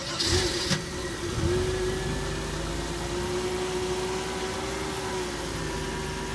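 A car engine with a severe oil leak starts up with a short burst of cranking, then settles into a steady, fairly loud idle hum that runs on alone to the end.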